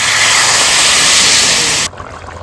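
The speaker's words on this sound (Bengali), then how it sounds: "তো ফুলকপি আলু কষিয়ে নিয়েছি, এবার জল দিয়ে দেবো।" Water pours into a pot of cauliflower and potato, a loud, steady rushing splash that stops abruptly, leaving a quiet, faint background.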